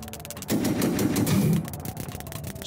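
Tanks fire in the video game Reverse Collapse in a rapid, dense burst of gunfire that swells for about a second, then thins into scattered rattling shots, loud and close.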